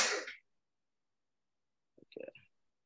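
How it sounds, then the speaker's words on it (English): A single sharp, breathy sneeze bursts out close to the microphone, then silence follows before a short murmur of voice sounds near the end. "I need to sneeze here."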